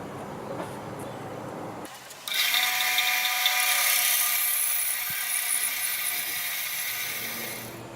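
A battery drill whirs and drives a screw into a wooden sawmill jig for a band saw, a steady high motor whine that starts abruptly after a quieter lead-in and holds at close range for several seconds.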